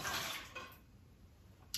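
Cabernet Sauvignon wine is poured away in a soft liquid gush that is strongest at the start and then fades into a quiet trickle, heard alone with no talking.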